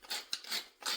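Fresh black pepper being ground over a basic marinara, heard as three quick, raspy grinding bursts with short pauses between, close and fairly quiet.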